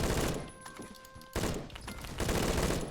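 Rapid automatic gunfire from a gun fitted with a compensator and full stock, firing hollow points in Phantom Forces, a video game, in loud dense bursts with a brief lull in the middle.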